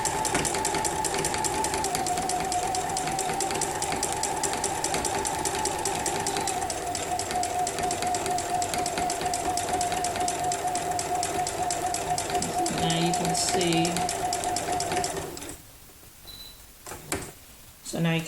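A sewing machine hums steadily through free-motion quilting on rainbow arcs, its rapid needle chatter and motor whine running continuously at close range for about fifteen seconds before cutting out and leaving a few soft handling noises.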